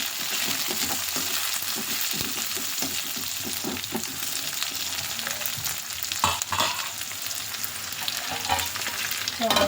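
Cumin, mustard seeds and curry leaves sizzle in hot oil, a close, dense crackling hiss with scattered pops and stirring scrapes throughout, steady and loud, with no talk.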